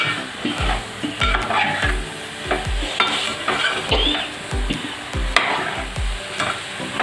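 Brinjal curry is stirred in a sizzling pan with about a kilo of fresh brinjal. A spoon scrapes and knocks against the pan in a steady rhythm over continuous frying noise.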